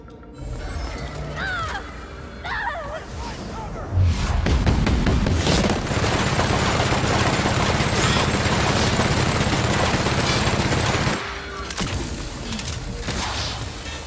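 Heavy big-gun fire in The Outer Worlds video game: a loud, sustained burst of rapid shots and booms runs for about seven seconds, with mechanical clanks before it and quieter clatter after.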